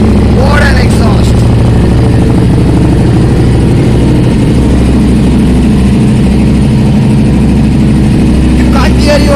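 A loud, throaty Harley-Davidson Street 750 motorcycle engine rumbles and revs through a booming exhaust, close by and continuous, with a voice barely audible beneath it.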